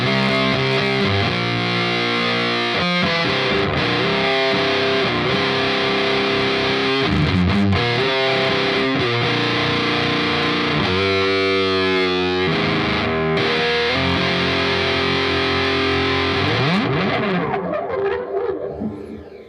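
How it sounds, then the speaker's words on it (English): Heavily distorted electric guitar through a distortion pedal swept for more gain, playing chords and riffs, loud and sustained, with the tone growing harsher before it cuts off and fades at the end. "you can sweep the pedal sideways like that and get more distortion"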